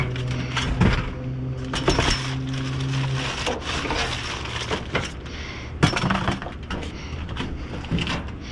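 Glass breaking and clinking as a candle breaks glass while someone digs through a dumpster, with repeated sharp cracks, crunches and rattles of shards and debris at close range.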